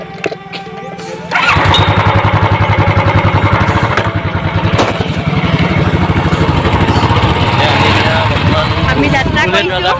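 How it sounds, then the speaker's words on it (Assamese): A motorbike engine starts with a burst of power, then settles into a steady, loud, close idle rumble that runs to the end. "আমি এতিয়া বাইক ষ্টাৰ্ট কৰিম"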